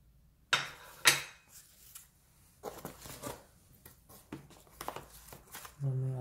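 Korean porcelain plates being unpacked and handled, with a couple of sharp ceramic clinks followed by scattered lighter knocks and rustling, while a person talks throughout.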